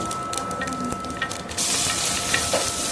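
Onions frying in a pan for a broccoli mixed-vegetable dish give a steady close sizzle that swells louder and brighter about halfway through, with no talking.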